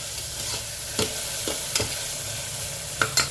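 Bottle gourd pieces frying with curry leaves in a pan, a steady close sizzle broken by sharp scraping strokes of a spoon stirring roughly every half second, with no voices.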